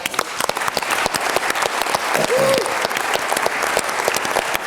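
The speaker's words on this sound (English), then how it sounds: "Big round of applause for Roomla" A seated audience at a startup pitch event gives a company a loud, sustained round of applause, dense even clapping with a short whistle in the middle.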